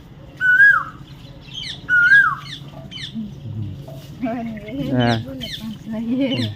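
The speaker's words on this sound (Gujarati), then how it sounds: "મજા આવે કોયલના ટવકારા સાંભળવાની" Koel calls in a village near Botad at morning, two clear rising whistled notes near the start, then further bird chatter mixed with indistinct voices talking in the background.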